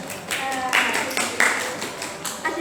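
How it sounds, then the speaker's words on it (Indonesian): Students in a classroom applauding a classmate, scattered bursts of hand claps mixed with voices nearby, loud and brief rather than sustained. "Tepuk tangan untuk Nova."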